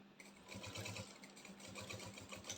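A sewing machine stitches the fabric lining of a small zippered toiletry bag: a steady, close mechanical whir with a fast rhythmic needle chatter that carries on without pause and without talking.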